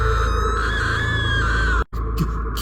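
A cartoon woman named Siya screams loudly in fright, one long sustained high-pitched shriek lasting nearly two seconds, followed by a brief gap and faint background sound.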